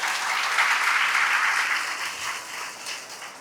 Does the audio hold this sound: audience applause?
yes